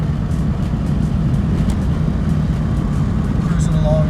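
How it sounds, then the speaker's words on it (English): A 1985 Saab 900 S cruises in fourth gear with a steady, loud engine and road drone inside the cabin, unchanging throughout. "Cruising along in fourth gear."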